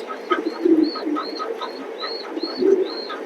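Pigeons coo repeatedly in a pigeon loft, a steady series of soft rolling calls at close range, one after another with short gaps, with no talk.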